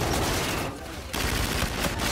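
Rapid automatic gunfire in Call of Duty: Infinite Warfare, a dense, loud, continuous burst with a brief dip before resuming.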